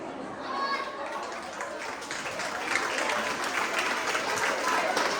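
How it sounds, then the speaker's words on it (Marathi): A crowd of women clapping together at a haldi-kunku Home Minister style game show, steady applause throughout with murmured chatter mixed in. "बया लगेच टाळ्या वाजवायला लागल्या."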